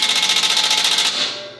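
A Ryobi ONE+ 18V P263 impact wrench on speed one, fitted with a 3/8 by 1/2 inch socket, hammering at bolts: a loud, rapid rattling buzz of even impacts for about a second before winding down.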